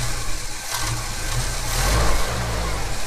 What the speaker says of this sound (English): I do run a fairly low idle.